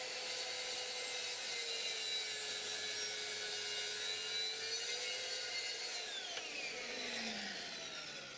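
A Mafell or Festool saw cutting a bevel along the edge of a wooden workpiece, a steady, loud whirring cut lasting several seconds that fades slightly as the blade finishes.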